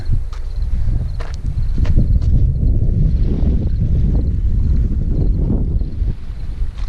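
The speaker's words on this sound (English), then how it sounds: "You can hear the tide." Steady wash of surf breaking on sandy Scusset Beach in New England, loud and close, with gusty wind noise over the microphone and no voices.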